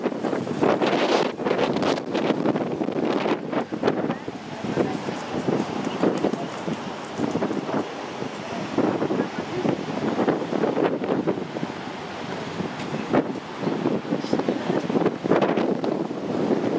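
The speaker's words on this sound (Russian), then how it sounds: "Вообще эти дни какие-то ветреные." Strong coastal wind at Dwejra Bay on Gozo, Malta, roaring and buffeting the microphone in continuous gusts, with faint surf and water beneath the rumble.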